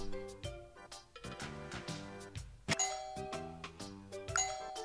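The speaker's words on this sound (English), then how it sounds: "I'm gonna go with doorbell." A doorbell join sound from the video game Tower Unite, played inside a condo, rings as a series of bright, clean ding-dong chimes in repeated tonal pairs, close and clear with no talk.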